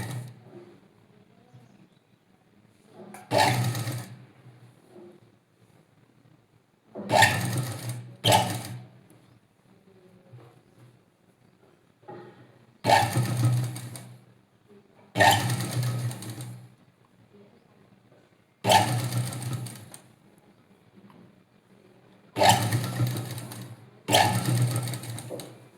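A sewing machine stitches fine, closely spaced pleats into a three-metre length of cloth, running in repeated loud bursts of a few seconds each, separated by quiet pauses.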